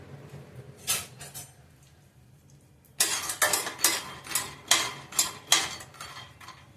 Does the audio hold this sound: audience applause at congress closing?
no